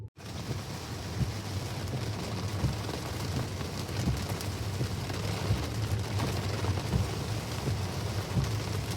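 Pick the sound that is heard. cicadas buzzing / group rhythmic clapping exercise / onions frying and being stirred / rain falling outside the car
rain falling outside the car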